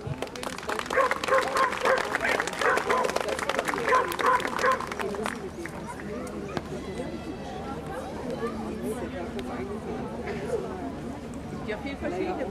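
Bearded Collies and other British herding dogs at an autumn show bark amid a busy crowd, with applause and chatter throughout and a loudspeaker voice talking over the scene.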